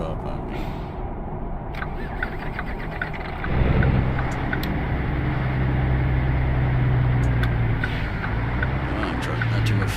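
A damaged truck engine in American Truck Simulator drones steadily, its low rumble rising in load partway through and holding, with someone talking over it throughout.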